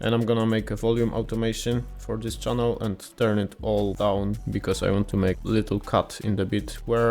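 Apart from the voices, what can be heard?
No distinct noise like a dog, phone or traffic.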